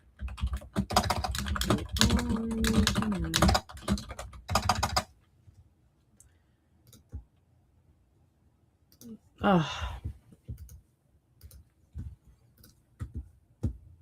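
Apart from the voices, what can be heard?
typing on a computer keyboard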